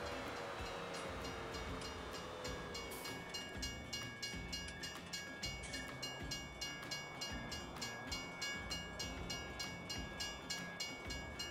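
A train passes in the farming game Farming Simulator 19, a loud, steady rolling rumble with an even, repeating clickety-clack rhythm of wheels over rail joints.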